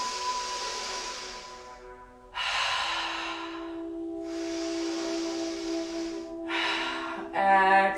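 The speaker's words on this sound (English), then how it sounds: "Take 3 rounds of breath." Slow, deep breaths during a yoga session, three long airy inhales and exhales in a row, close and audible, with a soft steady tone beneath.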